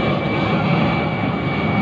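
An airplane flies low overhead near an airport, its engine roar loud, steady and continuous throughout, with no talking over it.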